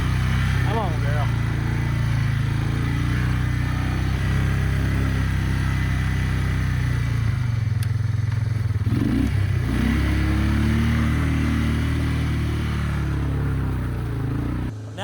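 Honda Fourtrax 300 ATV engine idling too high after warming up, a steady loud low drone running unbroken for the whole stretch with slight clatter, a brief bump in the middle, and a voice speaking over it.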